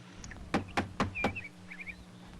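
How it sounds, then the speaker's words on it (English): A foot bangs against a door in a horror/comedy film: four sharp, fairly close thuds in quick succession, followed by faint background noise. "I heard you hit your foot against the door again."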